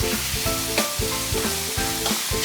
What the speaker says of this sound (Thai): เราก็ผัดไม่ต้องเยอะมาก